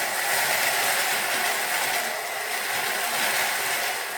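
A KitchenAid stand mixer running its shredder attachment through cabbage: a loud, continuous mechanical whir and grinding rattle, close and unbroken for the whole stretch, with no talking.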